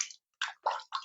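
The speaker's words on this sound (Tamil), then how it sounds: "இப்போ ஆட்டுக்கல்ல கழுவுன தண்ணியே அதுலேயே இறக்கிறேன்." Water used to wash a stone grinding mortar is poured into a clay pot of mutton curry, giving several short, close splashing gushes separated by brief pauses.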